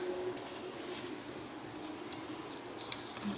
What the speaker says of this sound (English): I'm actually going to just trim this a little bit